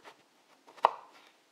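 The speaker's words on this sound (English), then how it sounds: "You just split the aubergine in half, and that's it" Knife splitting an aubergine in half on a cutting board, one sharp close thunk amid faint handling noises.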